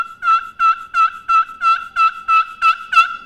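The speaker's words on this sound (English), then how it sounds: "And then you make turkey noises." A wooden turkey call made from instrument-grade wood, about 500-year-old, worked with a striker, gives nine loud, evenly spaced yelps, close and clear, with no voices over them.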